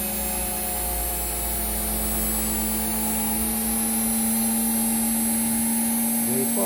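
A belt-driven generator machine runs steadily, giving a loud, continuous droning hum with a whining tonal edge that holds unchanged throughout.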